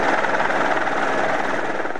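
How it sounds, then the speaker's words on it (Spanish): A helicopter's rotor chops in a steady, loud, continuous drone, heard close with no voices over it. "Rob Delmans y Mary Ann Harding descendieron con cuerdas desde un helicóptero hacia el incendio más grande."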